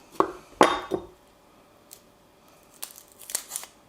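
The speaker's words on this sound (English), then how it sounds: "just take off the skin" Papery crackle and sharp snips of a shallot's dry skin being peeled by hand at a gas barbecue, two or three close bursts early, then quieter crinkles later with no talk.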